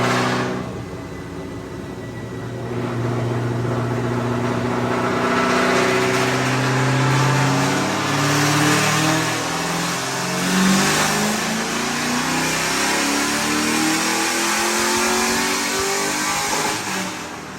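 LS-swapped Lexus IS300 revving hard on a dyno in fifth gear, a loud, sustained engine roar climbing steadily in pitch over many seconds, close and alone without talk.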